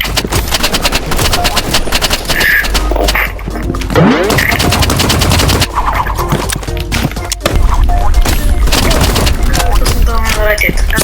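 Dense, loud gunfire in the video game Rivals, with rapid automatic bursts, single heavy shots and impacts rattling almost without pause, while players talk over the action.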